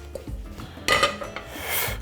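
A metal cooking pot for shrimp soup is set down in a kitchen, giving a sharp clanking knock with a brief metallic ring, followed by lighter scraping and clinking of cookware.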